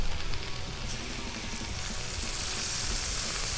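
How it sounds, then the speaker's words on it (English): Butter sizzles on a hot Blackstone flat-top griddle ready for shrimp, a steady close crackling hiss with a brief sharp pop near the start, continuing evenly without talk. "throw a little butter down for them shrimpies"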